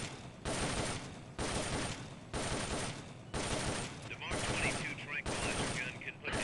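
Sustained bursts of gunfire from Metal Gear Solid Peace Walker, roughly four or five loud dense volleys separated by short pauses, with faint voices mixed in near the end.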